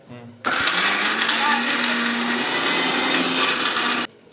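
A mixer grinder whirs loudly and steadily as it grinds banana stem into a fine paste, running for about three and a half seconds before cutting off abruptly.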